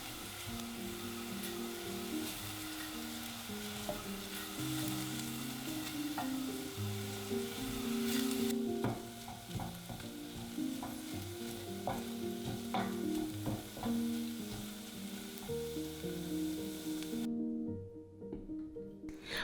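Onion and garlic sautéing in a saucepan with roasted tomatoes, a continuous close sizzle with stirring scrapes, faint background music underneath.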